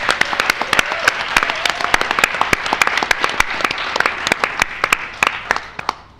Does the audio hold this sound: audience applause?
yes